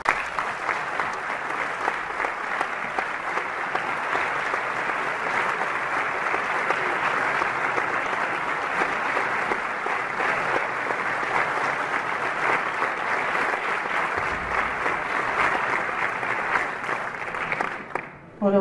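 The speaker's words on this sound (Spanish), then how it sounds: "La vamos a recibir con un fuerte aplauso para ella." Sustained applause from a concert audience welcoming a soprano at a National Police band concert in Calatayud, steady and dense for most of the stretch before cutting off near the end.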